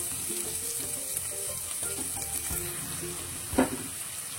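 Sliced onion frying in a pan with chana dal for shavige uppittu, a soft steady sizzle with a few light clinks and one sharp stir or scrape near the end, no talk.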